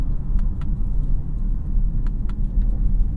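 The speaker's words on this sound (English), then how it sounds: "Really nice downshift rev matching." Engine of a 2022 Genesis GV70 Sport Prestige, 375 hp, rising in a steady low rumble as it blips the revs on a paddle-shifted downshift, heard from inside the cabin with no talking.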